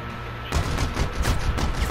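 Rapid burst of video game gunfire erupts abruptly after a short quiet lead-in, loud and dense, continuing steadily to the end with no talk over it.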